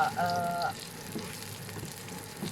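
Shallots and garlic fry in hot oil for Thai roasted chili paste with minced pork, giving a soft, close sizzle with occasional stirring scrapes and a brief tonal clink at the start.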